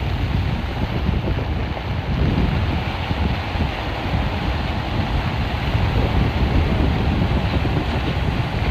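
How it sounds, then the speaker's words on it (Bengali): Strong monsoon wind blows at the seaside in Digha with rain, a loud, unbroken roar of gusts and buffeting against the microphone over a steady wash of surf and rainfall. "তো এত হাওয়া দিচ্ছে, ছাতাও মানছে না, আর সেই লেভেলের বৃষ্টি হচ্ছে।"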